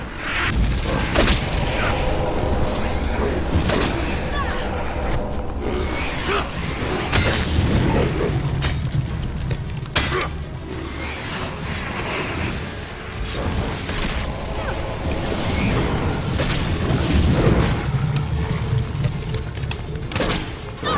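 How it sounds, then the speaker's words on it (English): Fireball spell explosions in Elex 2 thud and boom repeatedly amid a busy, loud combat mix with clanks and impacts throughout. "Fireball."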